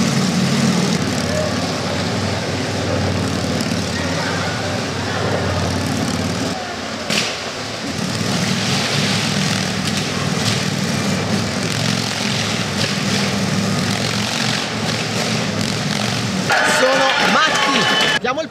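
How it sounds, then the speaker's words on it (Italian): Motorcycle engines roar steadily in the background at a Fearless Motodrome stunt show at the Summer Jamboree in Senigallia, a continuous loud drone that briefly dips midway while people talk over it. "Probabilmente sentite i motori in sottofondo,"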